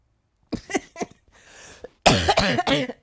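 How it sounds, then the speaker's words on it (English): Several sharp, close coughs from one person in bursts, the first few spaced apart, a softer breathy stretch in between, then a louder cluster of harsh coughs near the end. "I'm trying not to cough."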